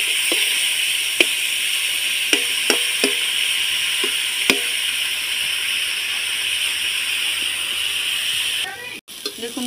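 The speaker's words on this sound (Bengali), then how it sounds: "এইভাবে লাল লাল করে এঁচোড়টা আমি ভেজে নেব।" Jackfruit pieces fry in hot oil with a loud, constant sizzle and hiss, broken by a few sharp clinks of stirring, until the frying sound cuts out near the end.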